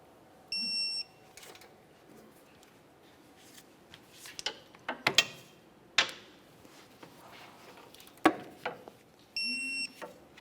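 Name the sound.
torquing control arm to subframe bolts on a Chevrolet Cobalt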